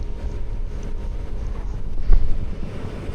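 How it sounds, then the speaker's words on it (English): Steady wind roar buffeting a helmet during a cold early-morning Vespa scooter ride on the Central Coast of New South Wales, a continuous low rumble with a brief louder gust near the end. "I still had the wind coming up into my helmet at this stage"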